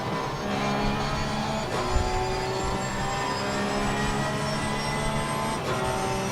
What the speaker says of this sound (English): Car sounds okay.